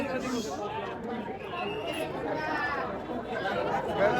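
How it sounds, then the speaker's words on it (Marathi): Dense crowd of devotees chattering at a Ganpati temple in Pune, many overlapping voices forming a steady, close murmur throughout. "गर्दी भरपूर आहे"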